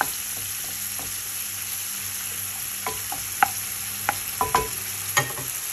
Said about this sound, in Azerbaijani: soğanımı qovururam